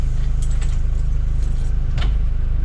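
Keys jangle in short bright bursts inside a Dennis/TransBus Dart bus, heard over the steady low drone of its idling engine.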